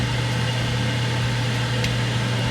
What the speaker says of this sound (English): I'm going to turn the exhaust.